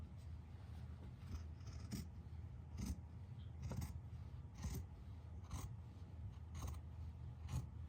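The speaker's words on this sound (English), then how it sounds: "So we're going to go ahead and cut this piece in half." Scissors snip through a fabric sock being cut in half for a Christmas sock gnome craft, with a series of crisp, close cutting clicks roughly every second over a low background hum.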